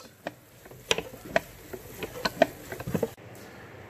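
A meat mixer churns ground venison and pork, giving off irregular mechanical clicks and ratcheting knocks, fairly close and quiet, scattered over a few seconds.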